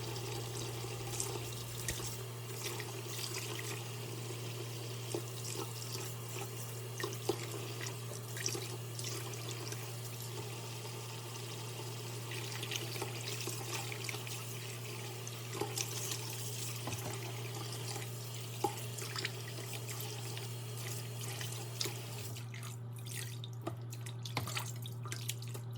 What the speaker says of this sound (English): you are going to want to pour cold water into the hot water